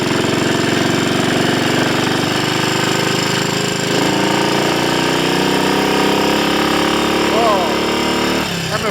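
Small Triumph Cub scrambler motorcycle engine revving loudly and continuously close by, a dense buzzing roar that holds steady and drops off slightly near the end.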